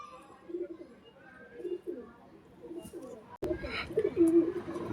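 Soft, repeated cooing from Madrasi pigeons murmurs close by in short, rhythmic phrases, broken by a brief handling thump before the cooing carries on.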